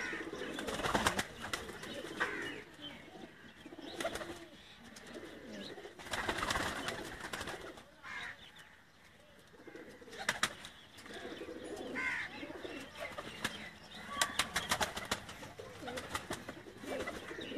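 A pigeon coos repeatedly at close range among other birds, with soft chirps and occasional wing flutters over a steady outdoor background.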